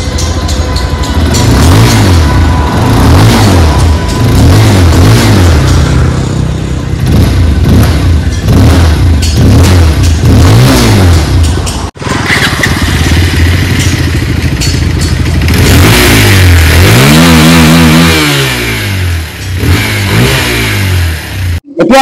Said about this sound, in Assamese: আৰু এক্সজষ্ট নোটটোৰ ফালৰ পৰা কেনেকুৱা ধৰণে চেঞ্জেছ কৰিছে বাজাজে আপোনালোকক এবাৰ শুনাই দিওঁ মাতটো মই।